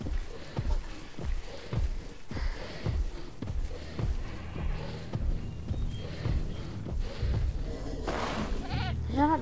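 A goat bleating in the Jurassic World Evolution video game, with repeated short, rhythmic calls over steady ambient noise and a burst of louder sound near the end.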